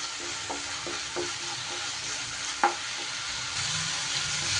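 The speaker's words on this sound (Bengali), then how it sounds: "সুন্দর করে এই মশলার সাথে ভালো করে এগুলো কষিয়ে নিতে হবে।" Spices with cumin powder and salt being sautéed in oil for a katla fish curry, a soft continuous sizzle with a few light scrapes of a spoon against the pan.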